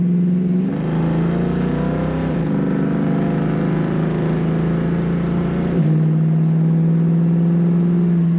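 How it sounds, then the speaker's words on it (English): A steady, throaty exhaust drone from inside a 1973 Ford Mustang convertible with automatic transmission, pitch dipping and rising slightly with gear shifts, continuous and fairly loud. "Nice exhaust note in this Mustang."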